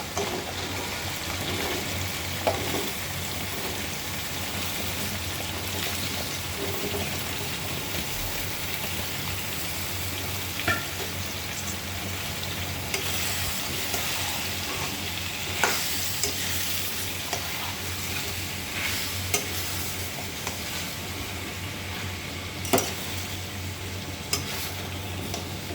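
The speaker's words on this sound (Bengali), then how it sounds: "মিষ্টি কুমড়া এবং চর্বি মশলার সাথে ভালো করে মিক্স করে নিলাম।" Sweet pumpkin pieces fry in goat fat with spices while being stirred, producing a continuous close sizzle broken by occasional sharp clinks of the spoon against the pan.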